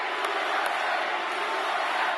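A crowd of students cheering at a Trump rally in West Palm Beach, a steady, even roar of many voices that stays at a constant moderate level, slightly distant.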